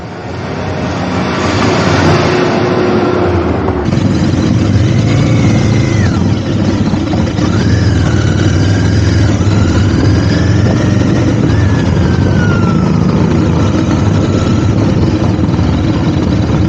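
Royal Enfield Interceptor 650 motorcycle engine pulling hard while riding, a loud continuous drone with rising and falling pitch as revs climb, buffeted by heavy wind noise throughout.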